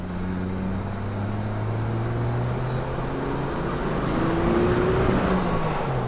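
Turbocharged RB30 GQ Patrol 4x4 engine running steadily with a droning tone that slowly rises in pitch, accompanied by a faint whistle, heard outdoors over background hiss.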